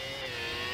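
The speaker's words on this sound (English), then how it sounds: "let's go ahead and get the F1 car, bro. I want to listen to this." A Formula 1 race car in the Roblox game Jupiter Florida, its engine holding a high, whining rev with steady tonal harmonics for a brief moment.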